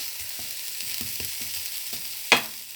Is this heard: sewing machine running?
no